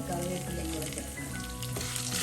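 Curry leaves and coconut pieces fry in oil over a low flame, giving a continuous close sizzle with light stirring throughout.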